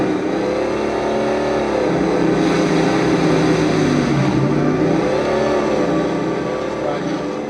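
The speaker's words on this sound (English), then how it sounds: "as I jump in it, you can hear the growl of the two-stroke. Then you got this really growly, 4-stroke, huge sounding exhaust" A Halo 3 vehicle engine blending a two-stroke growl with a huge, growly four-stroke exhaust roars steadily up close, revving and shifting pitch for several seconds as a voice talks underneath.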